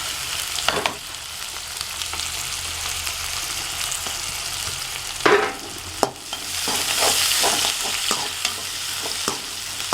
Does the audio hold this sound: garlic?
yes